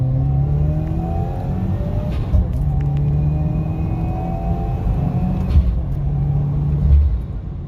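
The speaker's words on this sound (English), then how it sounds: "let me just show you a quick pull, because this is how the car is going to pull on 93 with no ethanol" A Subaru WRX on 93-octane pump gas with no ethanol makes a full pull, its engine rumbling and droning steadily with pitch climbing through the gears, heard from inside the car at a constant, moderate loudness.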